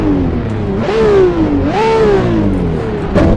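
A high-revving Ferrari 599 engine in the racing game Assetto Corsa climbs and dips in pitch through a few quick throttle blips, loud and close with no talking.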